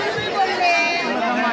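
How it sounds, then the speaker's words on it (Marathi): A crowded fish market fills with dense overlapping chatter and hubbub from many people nearby, a continuous babble of voices heard briefly and up close. "किती गर्दी आहे बघा."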